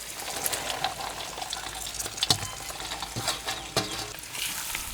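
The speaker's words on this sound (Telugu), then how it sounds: "పచ్చిమిరపకాయలు ఈ మాత్రం వేగిన తర్వాత మనం కోసి పెట్టుకున్న బీరకాయ ముక్కలు వేసేసుకుందాం" Ridge gourd pieces frying with green chillies sizzle quietly in a pan, with irregular spatula clacks and scraping stirs rising over the soft hiss.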